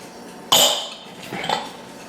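A spoon knocks and scrapes against a bowl while melted butter is stirred into a no-bake cheesecake mixture, one sharp clink followed by softer scraping strokes, close and brief, with no talking.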